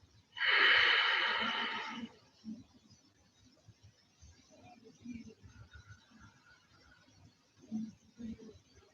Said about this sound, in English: inhaling and exhaling through your nose with a slight constriction in the back of your throat